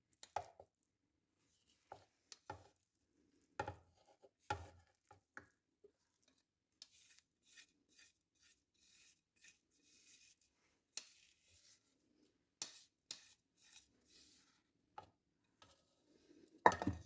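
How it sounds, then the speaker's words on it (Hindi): Minced keema being worked in a kitchen chopper for gola kabab: scattered sharp clicks and knocks at irregular intervals, with quiet gaps between and a louder cluster at the very end; no talking. "चॉपर में मैं इस कीमे को ऐड कर दूँगी।"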